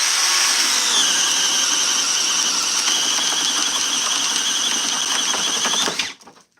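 A Milwaukee M12 sub-compact drill bores a one-inch hole into wood, a loud, close, steady whine with some grinding that runs for about six seconds, then stops abruptly.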